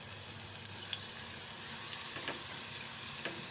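Onions sizzling in hot oil with whole spices while a vegetarian pulao is cooked, giving a steady, even frying hiss with a few faint clinks and stirring scrapes, and no talk.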